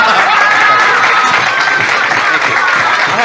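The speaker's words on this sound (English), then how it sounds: "And to those of you who are group leaders and started the applause" Dense, sustained audience applause at a live comedy album recording, loud and continuous throughout with crowd noise mixed in and no break.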